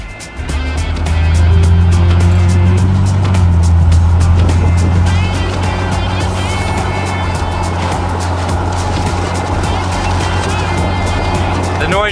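A 1984 Jeep CJ8 Scrambler, a right-hand-drive Alaskan postal model, drives down the road. Its engine drone is loud, close and steady, rising briefly as it pulls away, with road and cabin rattle mixed in.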